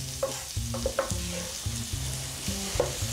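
Onion frying in hot sesame oil, with a steady sizzle and repeated stirring scrapes and clatters in a quick, uneven rhythm, close and moderately loud.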